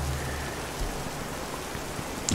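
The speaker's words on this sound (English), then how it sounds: "Oh, it's raining." Rain in the video game This Land is My Land patters as a soft, steady hiss of drops on surfaces, fairly faint and even, with a brief louder knock near the end.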